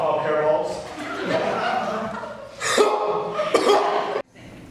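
A person imitates coughing up a hairball with raspy, throaty hacking and gagging bursts, rising to two harsh, loud spurts before stopping suddenly.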